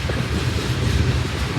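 A Union Pacific mixed manifest freight train with mid-train DPU locomotives rolls past close by, a loud continuous rumble and rail roar with heavy low-end churn and wind buffeting the microphone.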